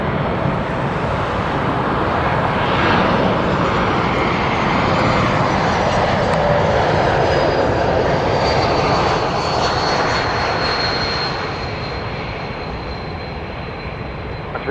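Porter airliner on the runway at Toronto Pearson airport, its jet engines producing a loud, steady, broadband roar that holds for most of the stretch before easing slightly toward the end, with no talk over it.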